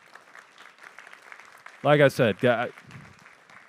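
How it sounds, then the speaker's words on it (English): Audience applause at an FBI supervisory special agent's talk, three short loud bursts of clapping after speech, with talking before and after. "I wish they were here to hear your applause."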